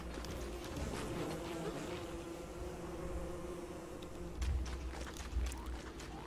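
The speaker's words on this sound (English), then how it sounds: "It's only a fucking bee." A bee buzzing in the survival game Don't Starve, a steady low drone that lasts throughout, fairly quiet, with a couple of louder thumps near the end.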